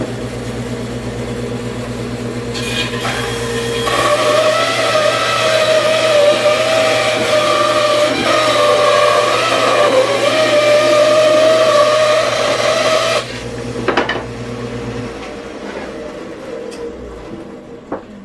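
A table saw runs steadily while cutting a wooden board down to half-inch thickness, its motor whine loud and continuous for about ten seconds before the blade spins down and quiets.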